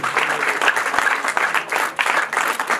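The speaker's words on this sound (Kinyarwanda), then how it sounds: "Amashyi menshi cyane n'impundu mwa babyeyi mwe" A crowd at a wedding ring ceremony claps steadily and loudly throughout, a dense, continuous wash of applause with a voice faintly underneath.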